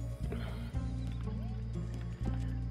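A horse in the Red Dead Online video game lets out a brief rising whinny, heard under a steady low game background hum with some soft hoof-like thuds.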